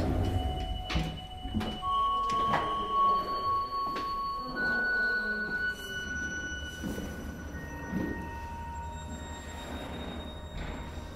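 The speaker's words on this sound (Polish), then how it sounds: "Piętro 6. Drzwi się otwierają." Elevator doors sliding open at the sixth floor, a long mechanical whirr and rumble with squeaks and clunks, steady and fairly close.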